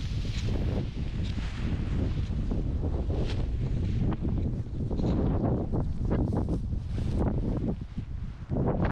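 Strong wind during a paraglider launch on a hillside, roaring and buffeting the microphone in heavy, continuous gusts for the whole stretch, loud and close with no voices.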